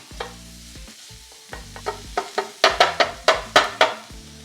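Sausage frying on a Ninja Foodi Pro XL griddle, a steady sizzle broken by a series of sharp spatula scrapes and taps that grow louder and closer together, roughly ten strokes in quick rhythm, with no voices.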